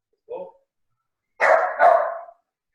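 A dog barks a few times nearby during an online video call: one short yip, a pause, then two louder barks close together.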